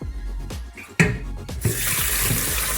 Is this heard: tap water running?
yes